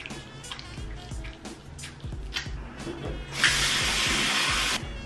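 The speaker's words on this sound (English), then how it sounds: "I'm gonna stop talking and run the water really quick." A bathroom tap runs water for face washing at night, first with scattered splashes and drips, then a steady loud gush for about a second and a half before cutting off.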